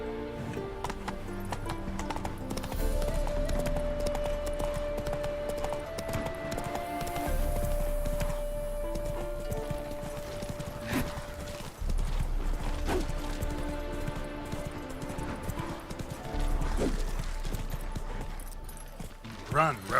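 Roach the horse galloping in The Witcher 3: Wild Hunt, steady rhythmic clip-clop hoofbeats under game music and someone talking throughout, with occasional louder thuds.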